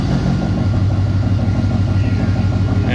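A 1968 Pontiac V8 fitted with Holley Sniper fuel injection idling, a steady, loud low rumble with a slightly lumpy, pulsing rhythm, close by and with no voices.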